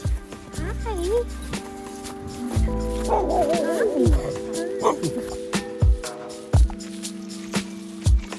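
Puppies whimper and yip in high, wavering cries, with a few short barks and thumps nearby, mixed with people talking.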